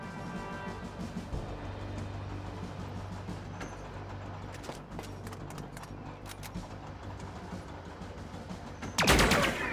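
Gunfire from the turn-based robot shooter SteamWorld Heist II, a steady run of clicky shots and impacts over a low droning game soundtrack, ending in a louder burst near the close.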